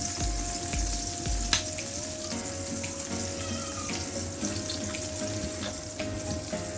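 Salted egg yolk cooks in vegetable oil in a pan, with a continuous close sizzle and occasional light stirring clicks, and no voices.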